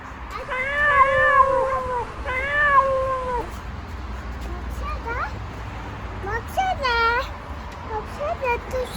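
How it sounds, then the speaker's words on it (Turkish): A cat meows several times, drawn-out cries with short gaps, close by; quieter background noise between calls. "Burada bir kedi var."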